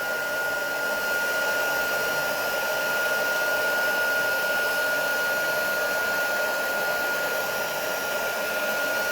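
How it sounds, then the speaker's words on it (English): A heat tool runs steadily while drying and melting embossing powder on a craft project, a continuous close blowing whoosh with a faint steady whine, alone without talk. "I do want to make sure that this is all really well embossed and dry with the heat tool"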